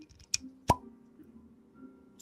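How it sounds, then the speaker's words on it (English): A cork popping out of a whiskey bottle makes a single sharp, close plop, preceded by a smaller squeak, over a faint background hum in an otherwise quiet indoor setting. "you ready for this cork pop?"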